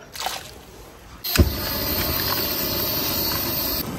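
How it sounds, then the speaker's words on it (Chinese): Running tap water pours steadily over blanched beef being rinsed, a continuous close splashing hiss that starts abruptly after a quiet second and keeps going until near the end. "焯水再给它洗一下"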